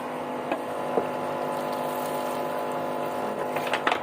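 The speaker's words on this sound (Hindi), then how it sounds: "थोड़ा सा पानी इसके अंदर हमने डाल दिया" Water poured into a pot of beef and cauliflower, a steady continuous stream of liquid running and filling, close and even, with a few light clinks and no talk.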